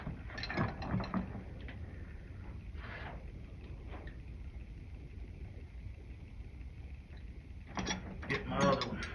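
A ratchet snaps a washer nut down onto a post in quick bursts of clicking, one near the start and one near the end, with a steady low hum in between.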